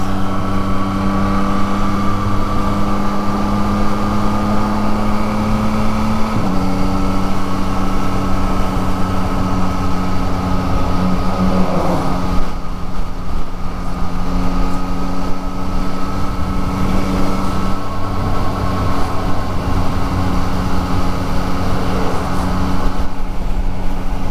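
A 2023 Yamaha MT-09 motorcycle cruises along, its engine drone steady and close, with one quick-shifter upshift from first to second causing a brief pitch drop before the hum continues with wind noise.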